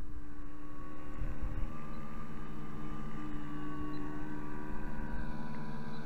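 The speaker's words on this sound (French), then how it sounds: "P51, ça vole bien." P-51 radio-controlled model plane flying on a 4S battery, a steady electric motor whine with sustained tonal hum, continuous and moderately loud throughout.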